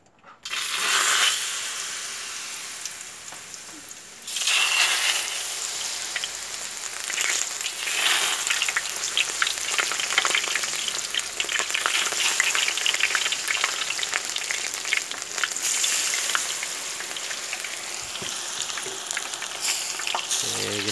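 Peanut rempeyek batter drops into hot oil and fries with a loud, continuous crackling sizzle that swells as more batter goes in, steady and close for a long stretch with no voices.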